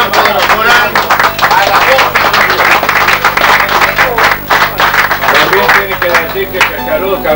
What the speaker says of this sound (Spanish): nos recibimos con el aplauso